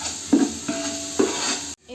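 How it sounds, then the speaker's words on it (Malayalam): Ginger, green chili and garlic sizzling in a pan for chicken biryani, with a steady frying hiss and three or four scraping stirs of a utensil against the pot before the sound cuts off abruptly. "നല്ലതുപോലെ ഇളക്കി കൊടുക്കുക"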